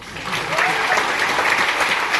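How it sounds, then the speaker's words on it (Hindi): Audience in a hall clapping at a Vestige business meeting, a dense steady round of applause that swells in and holds. "तालियां बहुत कम है भाई"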